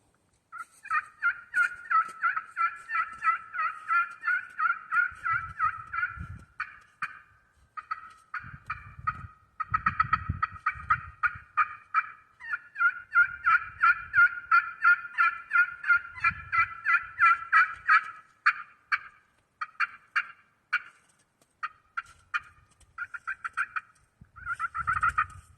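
A turkey pot call of Alumilite resin, Thin series, worked on a slate with no soundboard, gives out clear, rhythmic yelps and clucks in repeated bursts, close and alone.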